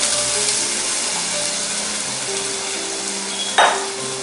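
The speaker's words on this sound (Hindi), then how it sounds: "तो अब हमने जो ये बॉइल किया था चना दाल और दूधी," Boiled chana dal and bottle gourd going into a hot pan, a steady close sizzle with a short splashy burst as they land.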